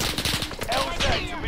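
Gunfire in Warzone rattles out as a fast, dense burst of close shots across the whole moment, with a voice faintly mixed in.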